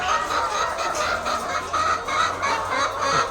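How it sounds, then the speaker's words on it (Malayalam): A flock of ducks quacks and honks continuously nearby in a noisy, overlapping chorus, with no talking. "താറാവ്"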